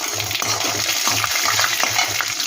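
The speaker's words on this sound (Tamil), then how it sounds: "நம்ம தாளிக்க வறுக்க வச்சிருந்த பட்டை, கல்பாசி, பிரிஞ்சி இலை, கசகசா போட்டு வறுத்துக்கலாம்." Cinnamon, stone flower, bay leaf, poppy seeds and cashews frying in oil for Chettinad tomato kuzhambu, a loud steady sizzle with rhythmic scraping stir strokes about every quarter second, close up.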